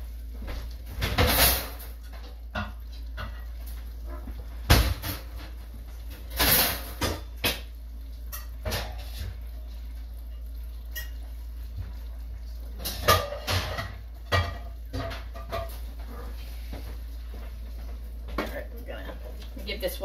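A lid grabbed for a pot of tofu curry in a home kitchen, heard as a few sharp clanks and knocks scattered among softer handling clatter, close by, with someone talking between the sounds.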